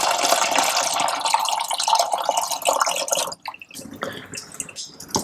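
Water pours into a plastic bottle brine shrimp hatchery, filling it about halfway, as a steady rushing splash that then breaks into gurgles and drips, with no talking.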